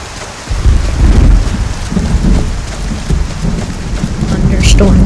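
A Skyrim thunderstorm pours heavy rain in a loud, steady wash, with deep rumbling thunder swelling underneath and a brief sharper crack near the end.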